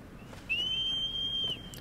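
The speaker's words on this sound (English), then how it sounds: "that is the game doing that every time I blow the whistle" A single clear, steady whistle tone for a horse call in the video game Shadow of the Colossus, sustained for about a second over quiet background hum, with a slight pitch glide at the end.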